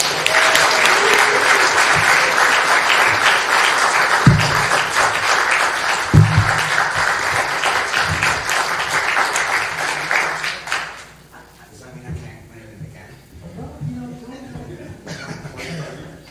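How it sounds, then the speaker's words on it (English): Congregation at an Ohev Shalom annual meeting applauds a lifetime Shalom Award presentation, with dense sustained clapping for about ten seconds and a few sharp thumps, then fading to scattered claps, coughs and murmuring. "So now you can applaud."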